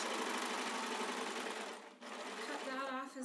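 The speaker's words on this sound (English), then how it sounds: "and then continue serging" A serger sewing machine stitches fabric for a face mask, a loud, steady high-speed whirring hum that pauses briefly and then resumes.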